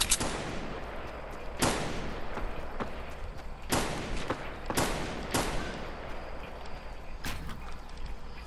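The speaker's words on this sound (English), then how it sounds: "They're shooting at me." Gunfire from the video game Fortnite cracks out in repeated sharp bursts, several loud shots scattered irregularly against a steady background din.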